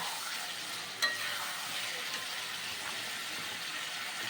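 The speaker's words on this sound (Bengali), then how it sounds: "এবার সেটাকে ভালোভাবে একটু নাড়িয়ে নেবো" Mutton pieces stirred and frying in a kadai, a steady broad sizzle running throughout with a brief sharp clink of the utensil near the start.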